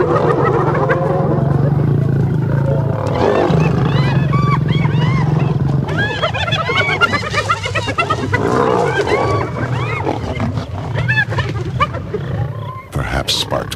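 Lions and a hyena clan fight in the wild in a loud, chaotic clash of deep growls and roars mixed with high, frantic whoops and cackles, with a voice speaking over parts of it.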